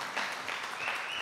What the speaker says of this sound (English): A lot more applause.